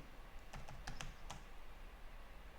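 A password is typed on a computer keyboard: about half a dozen faint, quick keystrokes in a short irregular burst, then quiet room tone, with no one talking.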